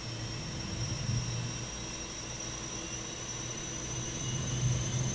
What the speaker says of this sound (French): ici c'est l'échappement de l'APU qui commence à tourner